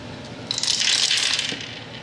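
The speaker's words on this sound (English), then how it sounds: "So you roll four dice at a time," Four dice are rolled together during a savings-challenge game, producing a bright clattering rattle that lasts about a second and then settles.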